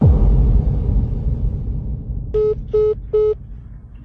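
Three short, evenly spaced electronic tones of a phone line going dead, each a brief steady beep, over a low background rumble.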